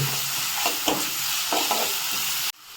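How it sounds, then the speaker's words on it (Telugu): Tomato frying in a pan, with a steady loud sizzle and several stirring scrapes before the sound cuts off abruptly. "కొంచెం టమోటో సో దీన్ని కూడా బాగా ఫ్రై చేసుకోవాలి"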